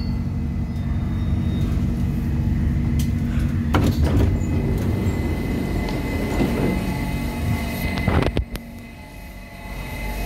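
An Istanbul M4 metro train runs between Bostancı and Tavşantepe stations, its steady low rumble and rolling hum filling the interior, with a few clanks and rattles along the way and no voices.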